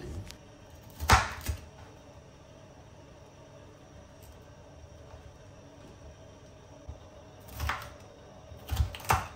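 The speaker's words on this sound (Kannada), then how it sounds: "ಈ ಕ್ಯಾಪ್ಸಿಕಮನ್ನು ನಾನು ದೊಡ್ಡದಾಗಿ ಕಟ್ ಮಾಡ್ಕೊಳ್ತೀನಿ" A knife chopping capsicum into large pieces on a board, a few crisp close thuds near the start and a couple more near the end, separated by a long stretch of quiet room hum.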